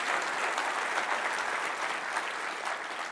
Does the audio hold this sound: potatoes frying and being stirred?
no